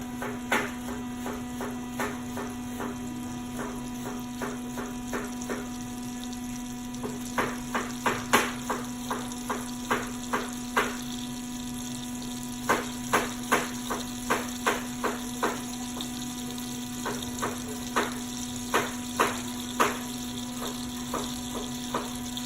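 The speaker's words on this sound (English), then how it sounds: "I'll slice the rest of those apples up" A knife slices apples for a caramel apple cheesecake pie, producing crisp, regular cutting taps in quick bursts with short pauses between them over a constant low electrical hum.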